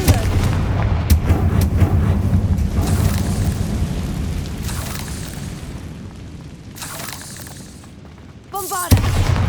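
Repeated Confringo fire-spell blasts from Hogwarts Legacy, loud booming bursts rolling across a continuous rumbling game soundscape, with a sharp burst near the end.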